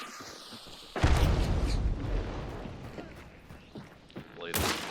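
A frag grenade explodes in the video game Hunt: Showdown, a sudden loud boom with a rumbling tail that fades over several seconds, followed later by a sharp secondary crack.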